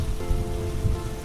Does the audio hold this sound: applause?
no